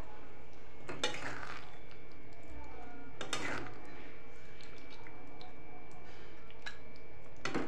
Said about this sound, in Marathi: पनीरला मिक्स करून घेणार मस्त।